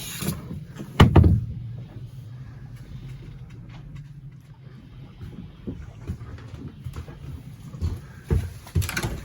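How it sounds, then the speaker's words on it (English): Cabin door on a 1988 Pearson 37-2 sailboat swinging shut with a single firm knock early on, then faint creaks and light rattles from the wooden interior over a low steady hum. "Now this door closes up for privacy"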